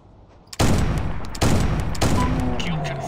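Three heavy gunshots from a Carnivores hunting game set on a Siberian expedition ring out about a second apart, each sharp, loud and followed by a lingering decay over a faint background.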